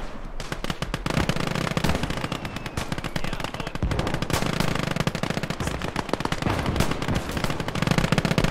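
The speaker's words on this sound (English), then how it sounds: "I love the sound of an MG42." An MG42 machine gun in the video game Last Grenadier 1946 fires loud, rapid, continuous bursts of gunfire with sharp repeated cracks, up close and without talk.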